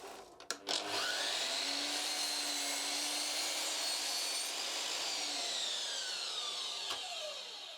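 A power saw cuts lengthwise through a drilled wooden board made with a stepped-bit drilling jig, a steady, loud, close whine with rasping texture that holds for about seven seconds before stopping abruptly.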